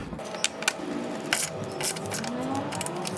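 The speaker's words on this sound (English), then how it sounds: "So now we're tightening our upper fan shroud mount bolts." A ratchet tightens the upper fan shroud mount bolts on a 2005–2015 Toyota Tacoma during a radiator replacement, giving a few close, quick bursts of clicking over a steady low background hum.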